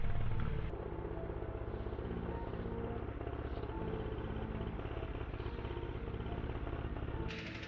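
Dirt bikes and ATVs ride over a bumpy hill, their engines droning steadily and loudly throughout with a rougher burst near the start and a shift at the end, no talk.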